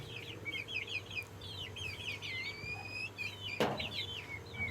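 Well-grown farm chickens cluck and give drawn-out, rising calls in a near, continuous chorus, with a brief rustle or knock near the end.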